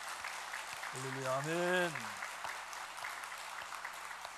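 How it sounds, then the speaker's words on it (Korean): A church congregation claps together during a Sunday worship service, steady applause running throughout while someone speaks and sings out over it. "5초간 큰 감사 박수 돌립시다"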